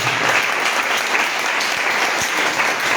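A church congregation applauding together in praise during a service, a steady, loud wash of clapping from many hands throughout.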